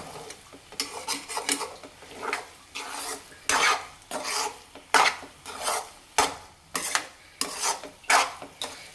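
Egg bhurji is stirred in a pan with a spatula in a steady run of about a dozen scraping strokes, each a gritty rasp against the metal over a light sizzle. Close and clear, with no talking.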